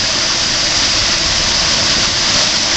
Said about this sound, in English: Here's our air conditioning.